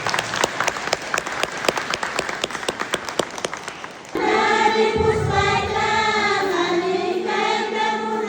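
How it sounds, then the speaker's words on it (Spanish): Audience applause for Padre Bernardino at a church gathering, a run of crisp rhythmic clapping that gives way halfway through to sustained music with singing or instruments. "un voto de aplausos al Padre"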